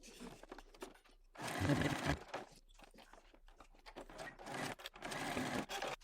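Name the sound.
sewing machine sewing bag strap connectors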